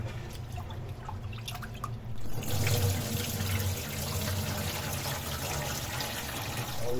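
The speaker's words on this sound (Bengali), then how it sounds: "এখন চাউলটা ধুয়ে নিচ্ছি ভালো করে যাতে চাউল এবং ডাউলের যে এক্সট্রা ধুলোবালি থাকে সেগুলো ক্লিন হয়ে যায় ভালোভাবে" Rice and lentils are washed under a running kitchen tap, with steady splashing water that swells louder after a quieter, dripping start.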